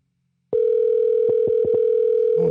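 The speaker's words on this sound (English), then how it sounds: "I'm about to give you a call. I just put it on speaker." After a moment of silence, an outgoing call on a phone's speakerphone starts a steady, loud electronic tone that holds continuously, with a few faint clicks and a low voice fragment near the end.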